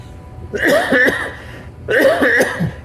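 Two loud, close coughing fits, each a rough burst of several hacking coughs, separated by a short pause.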